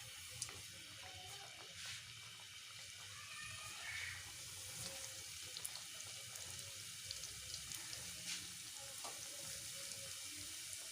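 Donut dough frying in hot oil, a steady soft sizzle and bubbling hiss with faint scattered crackles, continuous and fairly quiet with no voices.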